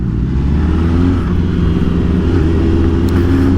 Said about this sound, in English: Stuck in crazy traffic